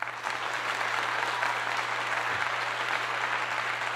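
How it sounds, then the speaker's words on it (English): Sustained audience applause at a talk on capoeira, ancestry and Alkebulan culture, a steady dense wash of many hands clapping at even loudness throughout, with a low electrical hum beneath. "Round of applause for that"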